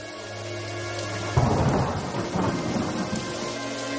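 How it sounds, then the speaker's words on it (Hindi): Heavy rain pours steadily, and a loud thunder crack bursts in partway through, then rolls and rumbles under the downpour. The storm is close and dense, with no voices. "लखन काफी देर तक उस पेड़ के नीचे बारिश के रुकने का इंतजार करता है, लेकिन बारिश थी कि रुकने का नाम तक नहीं ले रही थी"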